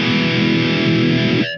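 Heavy metal guitar through a GTRS GCA5 mini amp with a cabinet impulse response loaded: a loud, thick distorted chord sustains evenly for well over a second before being abruptly muted, played alone with no talking.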